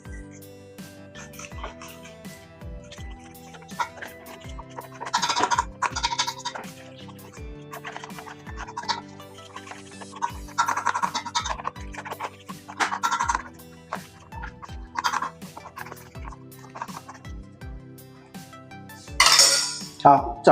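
Marinade with baijiu being stirred for Guangxi kiln chicken, steady clinks and scrapes of utensil against bowl recurring through the mix, with a constant low tonal hum underneath.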